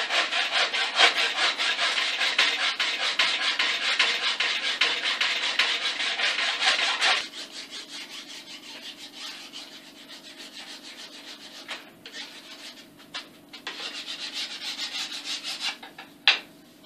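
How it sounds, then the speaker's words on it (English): A rasp file works a bevel into a wooden katana blade, with rapid, even scraping strokes loud and close for several seconds, then quieter intermittent rubbing and a final sharp knock, no talking. "Got the filing done, got the bevel on."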